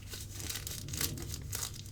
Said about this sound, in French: vous entendez? Comme les papiers de chocolat.